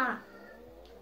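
A cat gives a single short meow close by, loud at the start and fading within a second.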